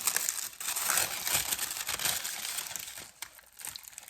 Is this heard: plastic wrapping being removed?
yes